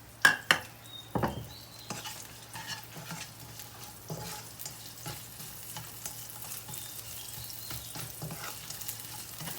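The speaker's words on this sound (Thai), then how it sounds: "ก็เจียวกระเทียมนะคะ แล้วก็เอาเห็ดไปผัด" Steady sizzle of garlic and mushrooms frying in butter, with a few sharp utensil scrapes and stirring clatters near the start.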